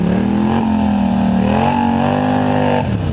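Two-wheel-drive truck engine revving hard while driving through mud and water on an Ontario mudding trail, a loud, sustained roar with its pitch rising and shifting under load, close and continuous.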